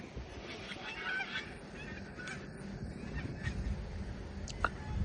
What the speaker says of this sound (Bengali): এখানে হাঁসগুলো দেখতে পাচ্ছেন, হাঁস ডাকার শব্দ।